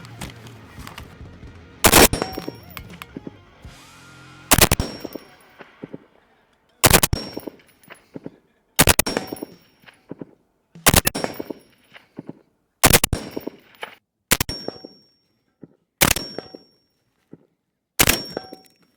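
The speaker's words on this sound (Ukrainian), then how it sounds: "Зробимо кілька пострілів з коліна, а потім кілька пострілів лежачи." Eight loud FN SCAR-L rifle shots fired one at a time, spaced roughly two seconds apart, each a sharp crack with a ringing tail, close by.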